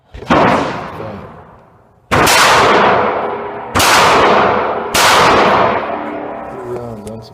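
Four loud unsuppressed 9mm gunshots ring out at an outdoor shooting range, each a sharp close crack followed by a long decaying echo, the first alone and the last three in quicker succession.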